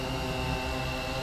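Cheerson CX-20 quadcopter drone hovering in stable mode, giving a steady, even whine of its propellers held at a constant pitch, close and continuous with no talk.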